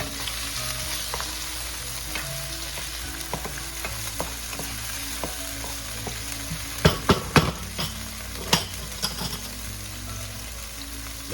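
Tomatoes and onions frying with squid in a pan for adobo: a continuous close sizzle and crackle with occasional spoon-stirring scrapes and a few sharp clatters, no talking.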